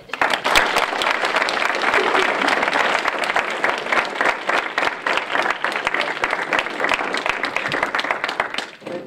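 Sustained, loud audience applause in a college lecture hall welcoming a returning lecturer, dense clapping from a large crowd that runs steadily throughout and cuts off at the end.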